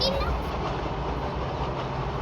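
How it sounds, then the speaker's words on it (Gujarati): A train passes close by, its loud continuous rumble and wheel noise filling the scene while voices can be heard under it. "જો ટ્રેન આવી આ ટ્રેન ક્યાં જઈ ખબર છે"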